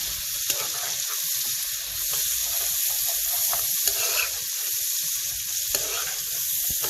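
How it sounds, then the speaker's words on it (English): Onions, peppers and spring onions frying in a pan, producing a steady, close sizzle throughout with occasional soft stirring scrapes and small ticks, with no talk. "So I've got onions, peppers and spring onions. I'm just going to let them soften up and just let them cook a bit."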